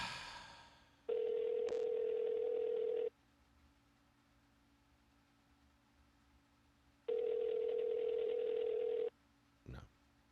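Telephone ringback tone on a call waiting to be answered, two long steady tone bursts about four seconds apart over a quiet line with a faint hum.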